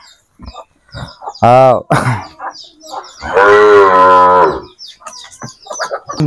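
A Sahiwal bull calf moos twice nearby, first a short call, then a long drawn-out low moo, with a voice calling in between.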